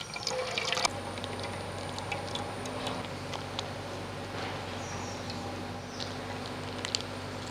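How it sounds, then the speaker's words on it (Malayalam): Cooking oil pours into a pan in a steady, thin trickle that starts after a moment and runs on quietly over a low electric hum, with faint clicks and no voices. "ചട്ടി നമ്മൾ ഓയിൽ ഒഴിക്കുകയാണ്"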